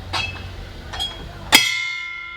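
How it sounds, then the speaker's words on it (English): A boat bell aboard an Erie Canal narrowboat is struck a few times: two lighter taps, then one loud, bright strike that rings on and slowly fades. No one speaks. "Oh, and we have a nice bell too."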